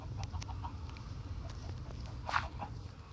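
Chickens cluck softly and intermittently in the blocky survival game Minecraft, over a low background hum, with a few quiet footstep-like taps.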